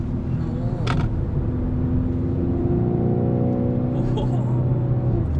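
Hyundai Veloster 1.6 turbo hot hatch engine note piped through its sound generator, a steady droning hum with a rising tone while driving, heard from inside the cabin.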